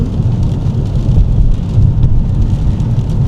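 Steady heavy rain in Vancouver, Canada, with a deep continuous rumble, loud and close, with no voices.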